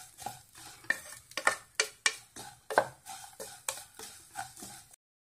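Vermicelli being stirred and roasted in ghee in a pan for semiya pudding, a steady rhythm of spoon scrapes and metallic clinks over a soft sizzle, close and distinct.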